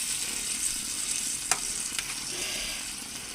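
Tangra fish curry simmering in a pan after water is added, a quiet, even bubbling sizzle with a couple of brief clicks from a utensil, close and without speech.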